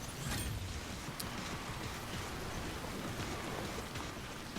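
Rain and wind in the video game Death Stranding: a soft, steady hiss of rainfall that blows on without a break, fairly faint and with no talking over it.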